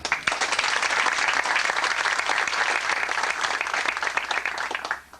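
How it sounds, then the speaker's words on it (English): A crowd applauds the event organisers with sustained, dense clapping at steady volume that fades out in the last moment. "I just want to give them a round of applause"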